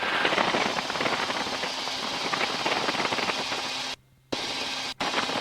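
A RotorWay helicopter in flight: a steady, loud rotor drone with rapid chopping pulses fills the clip, cutting out briefly twice near the end.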